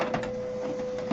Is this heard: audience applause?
no